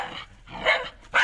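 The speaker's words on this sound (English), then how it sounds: "Any unwanted sound such as domesticated dogs barking," Three quick dog barks in a row, loud and close, with short gaps between them.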